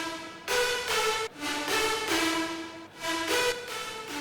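Two wide-panned future bass synth leads play together in a bright, harmonically rich melodic line, with several sustained notes separated by brief dips, loud and alone without voices.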